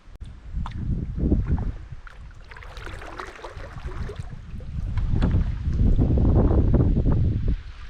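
A kayak is paddled on a Swedish lake, with water swishing and splashing as the paddle strokes pass through it. Steady wind buffets the microphone throughout.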